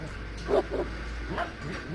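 A dog in a horror video game gives a few short yips and whimpering barks, fairly faint and brief, against a quiet low background.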